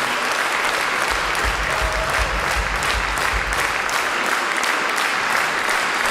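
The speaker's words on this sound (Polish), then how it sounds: "Wielkie brawa." Concert audience applauding at a patriotic concert, dense sustained clapping from a large crowd, loud and even throughout, with a low rumble and brief tonal sounds beneath.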